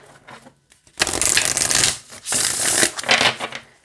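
An oracle card deck is shuffled by hand, giving dense papery riffling and flicking in two long bursts separated by a short pause, close and fairly loud, with no talking.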